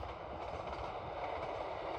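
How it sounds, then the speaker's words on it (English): Evening northbound passenger train to Mallaig on the West Highland line, usually two coaches, a steady close rumbling roar of rolling wheels and carriage noise throughout, with no voices. "The evening northbound train to Mallaig seen here is usually a 2-coacher"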